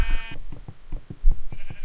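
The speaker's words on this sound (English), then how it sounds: "Yes, hello cow and sheep." Sheep bleat inside the video game Red Dawn, a series of short rhythmic bleats repeating close and loud in quick succession over a quiet game background.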